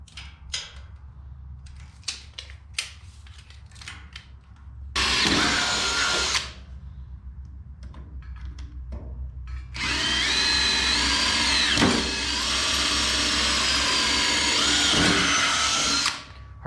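A power drill with cheap Harbor Freight bits whirs in two loud sustained bursts through thin material, separated by quieter clicks and handling noises, close up with no talking.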